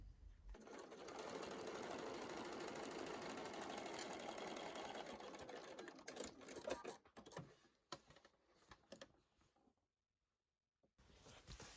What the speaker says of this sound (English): we're going to stitch along that seam, but we're going to make sure we're not sewing on this bit